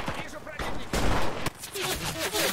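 Gunfire in the video game Enlisted comes as loud, rapid volleys of shots in bursts with short pauses between them, mixed with other in-game noise.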